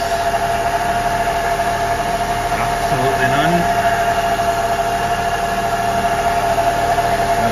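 A Mercedes SL350 R230 engine idles steadily after an oil change, a constant close hum with mechanical whine, while someone speaks briefly over it.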